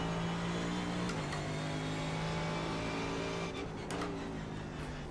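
A BMW race car engine in iRacing at Brands Hatch, a steady high-pitched drone that dips and shifts pitch with gear changes, loud and close with brief sharp clicks near the end and no talk.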